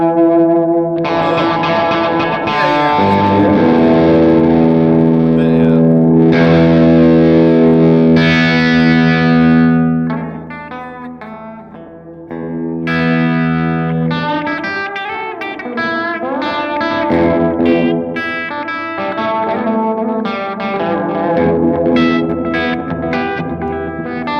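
Electric guitar played through a Gecko echo pedal, sustained distorted chords ringing into dark, cavernous repeats like a warehouse, with a short dip in level midway before denser picked notes and trailing echoes return.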